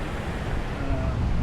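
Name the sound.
ocean waves crashing on shore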